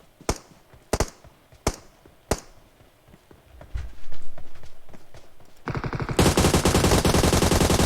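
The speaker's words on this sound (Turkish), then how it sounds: "Şurada tek tek sıkan var da bot mu acaba o?" Single gunshots fired one at a time in the PUBG Mobile video game, four sharp separate cracks with gaps, then scattered shots and a dense burst of rapid gunfire and noise.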